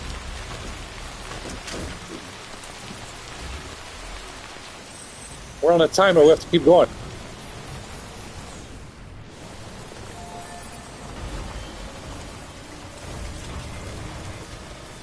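Timefall rain in the game Death Stranding Director's Cut falls as a steady hiss throughout. Voices talk briefly over it, and a short burst of tonal sound stands out midway.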